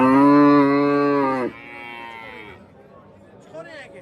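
A cow lets out a loud, long moo nearby at the Kattaqo'rg'on cattle market in Uzbekistan, then a second fainter moo follows, with the low murmur of a crowd behind.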